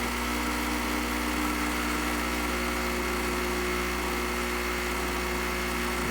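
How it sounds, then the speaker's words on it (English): A Gaggia Classic espresso machine brews with a steady, close pump hum and buzzing vibration that holds unbroken throughout, with no speech. "And now it's brewing, but it's a little too fast"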